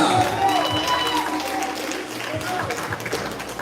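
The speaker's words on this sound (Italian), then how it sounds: "Accogliamo con un grande applauso Diego Zaccaria." Spectators at a youth interregional boxing event in Veneto applaud a boxer entering the ring, a sustained crowd clapping with some cheering beneath an announcer's amplified voice.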